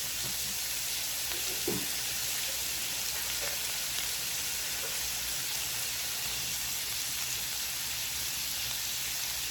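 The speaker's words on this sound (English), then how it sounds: "wash my hands real quick." Steady running water from a kitchen tap while hands are rinsed after handling salmon and shrimp, a continuous hiss with a few brief splashes near the start, close and even throughout.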